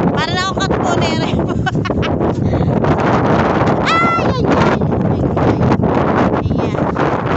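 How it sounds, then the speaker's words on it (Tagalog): Strong wind roars and buffets the microphone nonstop while people talk and shout over it outdoors at a beach. "So, sobrang mahangin ngayon."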